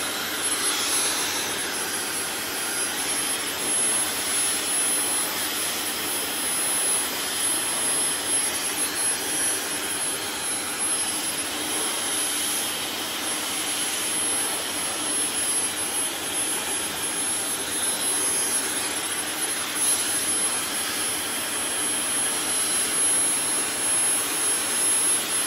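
A handheld hair blow dryer runs steadily and loudly throughout while drying hair during a precision haircut, a continuous broadband whoosh with no talk over it.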